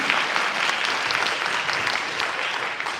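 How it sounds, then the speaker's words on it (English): An audience at a town hall meeting in Waltham claps steadily, a continuous even patter of many hands at moderate level with no voices over it. "and you can clap for us"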